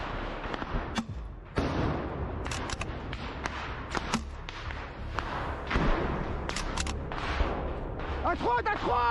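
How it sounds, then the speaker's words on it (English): Combat gunfire during an organized infantry withdrawal from a trench, with a commander firing a handheld grenade launcher: repeated sharp shots and booming thumps scattered through the clip, some near and loud, with shouted voices over the fighting. "the commander provides cover with a handheld grenade launcher"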